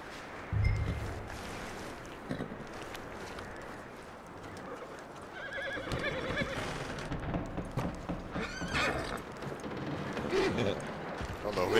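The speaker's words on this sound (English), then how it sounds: "Come on, calm down, horse." A horse whinnies and neighs in Red Dead Redemption 2, with hoof clip-clops and some mechanical and water ambience around it, and someone talking intermittently over the sounds.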